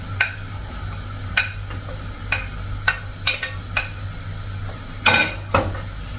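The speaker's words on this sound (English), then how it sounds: "I've already added the onion inside the pot, so I'm going to wait for it to fry" Onion frying in cooking oil in a pot on a stove, with a steady low sizzle under a series of sharp clinks and scrapes from a utensil stirring against the pot, and a louder clatter near the end. No talking.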